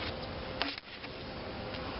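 A few honeybees buzz close by at a hive lid during a swarm re-queening, a steady dense hum with a brief dip midway and no talk.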